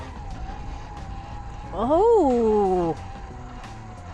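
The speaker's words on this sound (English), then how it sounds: "First wheelie with the Lewis LHTs." A Talaria XXX electric dirt bike pulls a wheelie, its motor whine rising sharply in pitch, then falling away over about a second under steady background noise, with a brief exclamation from a rider.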